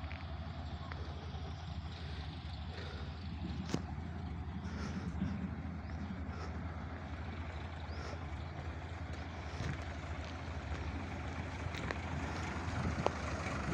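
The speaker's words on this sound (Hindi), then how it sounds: "सामने मशीन काटते हुए आप लोग देखिए कैसे मशीनें चल रही हैं चारों तरफ।" Farm machines cutting crops in a village field, a steady droning engine rumble with wind noise, continuous and moderately distant, with someone talking over it at times.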